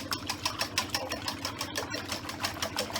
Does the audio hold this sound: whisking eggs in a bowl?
yes